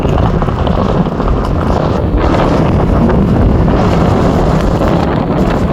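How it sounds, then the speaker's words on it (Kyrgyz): Strong wind blowing outdoors, loud and unbroken buffeting roar across the microphone throughout, with no voices heard. "Өтө шамалат экен"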